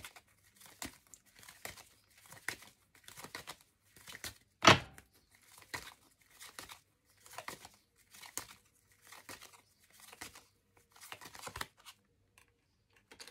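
Tarot cards shuffled and handled in a quiet room, a steady run of crisp crinkling slaps and riffles repeating about every second, with one louder snap partway through and no talking.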